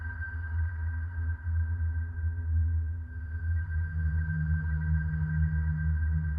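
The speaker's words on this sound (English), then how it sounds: "these are the ones that you hear like when you're in a cave, because they tried to add that immersion of being in a cave" Cave ambience from an Elder Scrolls game soundtrack: a steady, low droning rumble with a faint sustained tone above it, continuous and even throughout with no voices.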